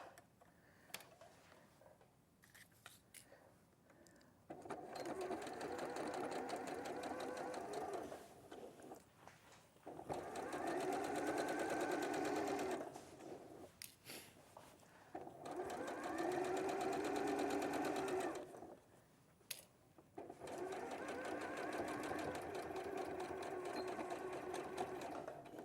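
A sewing machine stitches culottes in three long, steady runs of rapid close mechanical whirring, separated by brief quiet pauses with small clicks.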